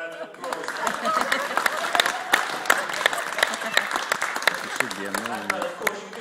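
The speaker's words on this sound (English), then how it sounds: "I think you deserve a round of applause." Steady audience applause with sharp individual claps standing out, carrying on throughout, with a voice briefly audible over it near the end.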